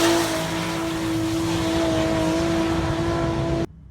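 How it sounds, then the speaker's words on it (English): A Nissan Skyline R34 four-door engine drones loudly and steadily at a Japanese drift day, a constant tonal note that cuts off abruptly at the end. "it's one of the best sounding R34s I've ever heard"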